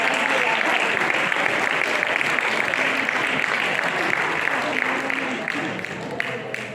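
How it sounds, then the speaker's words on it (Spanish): Church audience applauding during a sermon, a loud, sustained round of many hands that tapers slightly at the end, with faint voices underneath. "Un aplauso a él"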